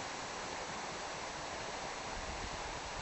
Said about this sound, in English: The babbling brook, the tweeting birds.